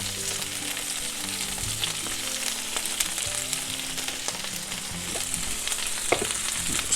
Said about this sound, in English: Our garlic is just starting to brown, so we're going to go in with our Swiss chard.